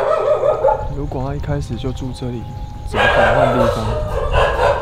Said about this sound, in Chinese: 我相信大家应该都有听到狗